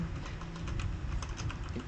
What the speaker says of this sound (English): You, you will type your friend's name and the tagline.